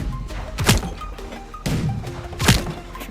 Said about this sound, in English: My boat got hit again.